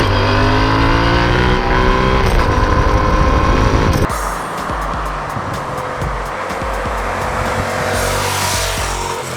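A 2020 Yamaha XSR700 motorcycle, a parallel-twin MT-07 platform, being ridden: engine note rising through revs, a sharp cut at a gear change, then a steady drone with wind rush, no talking.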